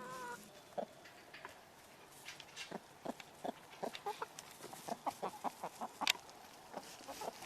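Backyard barnyard hen mix chickens around sixteen weeks old, clucking in short, repeated bursts at close range, growing busier and louder over a quiet outdoor background.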